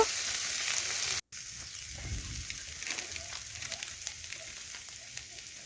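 Ginger and cumin paste frying in oil with turmeric powder, a quiet steady sizzle with scattered soft crackles after a brief gap near the start.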